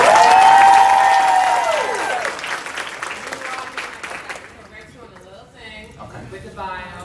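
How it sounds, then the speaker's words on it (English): Audience applause and cheering at a Pride speaker event rings out loudly over a rising musical tone, then thins and fades as a voice begins talking. "So give yourselves a round of applause."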